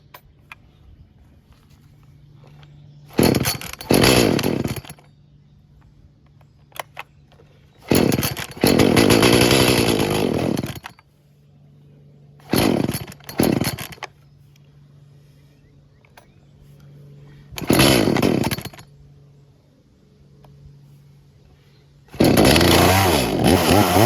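An off-tune trade-in Echo CS-310 chainsaw, carburetor adjustment screws set 1.5 turns out, roars in five separate loud bursts of a few seconds each, with quiet low idle gaps between them.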